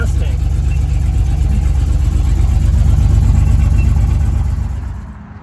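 A cheap custom car's engine runs steadily after a gas tank replacement, a loud, close, even rumble that holds for about five seconds, then fades out at the end.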